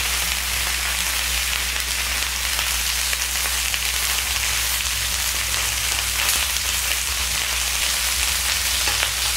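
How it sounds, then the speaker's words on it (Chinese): Free-range chicken pieces pan-frying over medium heat, a dense steady sizzle like light rain that holds unbroken throughout, with no voices. "这一面也用中火煎三分钟了哈"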